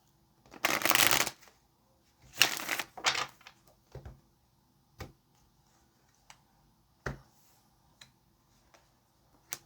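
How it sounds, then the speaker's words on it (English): Tarot cards are shuffled in a few quick riffling bursts, followed by scattered soft taps and clicks as they are handled, close and fairly quiet. "Let's get this last shuffle"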